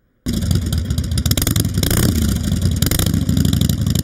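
A biker's motorcycle engine roars to life after a brief silence, revving loudly and continuously with a rough, rattling growl.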